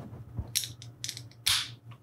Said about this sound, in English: That's the sound of me opening up the can.